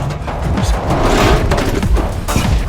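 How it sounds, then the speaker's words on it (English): A taxi smashes into a living room in a movie sinkhole-disaster scene: loud, chaotic crashing with repeated heavy thuds, impacts and debris rattling throughout, with a voice mixed in. "the taxi crashed into Jack's living room"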